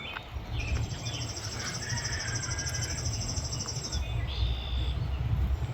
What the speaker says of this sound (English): We have some finches living in this house.